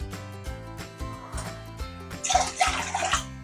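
Water is poured into a pot for boiling, two bowls' worth measured for one bowl of rice flour, while making patolya in a home kitchen; a splashing, gurgling pour swells near the end after some clatter.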